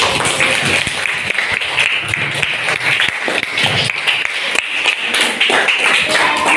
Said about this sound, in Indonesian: harus tepuk tangan dulu